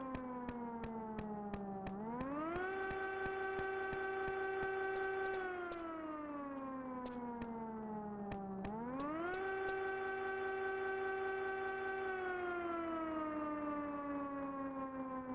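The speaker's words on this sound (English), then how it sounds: "Oh, that would be the siren that the guide mentioned." A civil-defense style siren in Final Fantasy XI wails steadily in rising and falling sweeps, with a droning, slightly buzzy tone, heard alone and fairly quiet.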